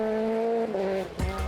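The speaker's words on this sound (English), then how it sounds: "with Johnny Hart calling the notes in the Peugeot 208 R2" A Peugeot 208 R2 rally car on a forest stage of the Moonraker Forest Rally revs hard with a sustained engine whine, dropping briefly as it shifts, then a burst of gravel and tyre noise.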